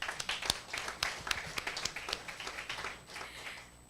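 A small group applauding at a corporate certificate ceremony, close, uneven hand claps in a steady patter that thins out toward the end.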